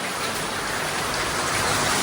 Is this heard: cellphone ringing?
no